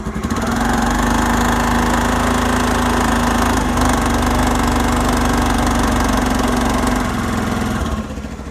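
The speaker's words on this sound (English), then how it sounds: "so as you can hear, this is the engine sound." A 14-year-old Honda Activa scooter engine idles steadily and close up, with a constant low hum and a rattling vibration that holds for several seconds before easing.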